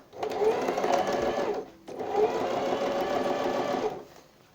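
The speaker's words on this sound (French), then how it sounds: "Et je couds avec demi-pied de biche." A sewing machine stitches a sleeve placket with a half presser foot at about a 0.7 cm seam, running steadily in two close, even bursts separated by a brief pause, with no talking.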